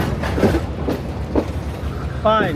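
A small train moves through a railway station with a steady rumble and clatter, ending in a brief metallic squeal, while people talk nearby.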